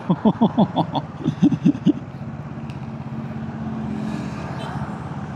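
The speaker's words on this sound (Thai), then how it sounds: "วันนี้รถเยอะ" Passing motor vehicles rumble by a Versys 650 motorcycle on a busy road, with a short run of loud rhythmic engine or tyre pulses early on, then a steady, fainter traffic drone.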